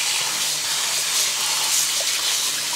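Running water pours steadily over wheat being rinsed for aşure, a continuous close gush like a kitchen tap filling a bowl, with no talk.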